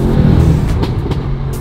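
Loud, close exhaust roar from a Mercedes S63 fitted with downpipes under acceleration, a steady deep engine drone with brief crackling pops breaking through, with no talking.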